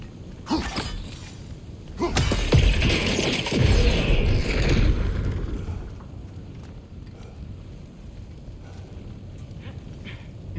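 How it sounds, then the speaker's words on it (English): Metallic clanging and grinding of a working forge in God of War Ragnarök, swelling loud for a few seconds with harsh, crashing bursts, then settling back to a lower, steady background clatter. "I can hear the forge"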